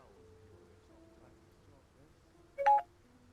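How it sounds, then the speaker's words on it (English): A short electronic notification chime pops up once near the end, brief and moderately loud over a quiet game menu backdrop. "Sorry about the notifications popping off"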